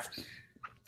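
One quick, fairly faint sneeze, a brief sharp burst of breath heard on its own.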